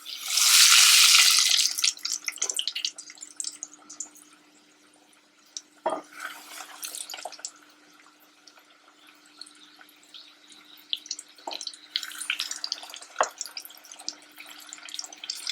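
Battered chicken dropped into hot oil in a pot bursts into a loud, hissing sizzle for about two seconds, then settles into faint, scattered crackles and pops.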